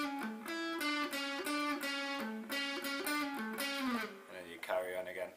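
An electric guitar plays a lead lick as a melodic run of picked notes with a slightly driven tone, close and clear, before a brief final bend, with no voice over it.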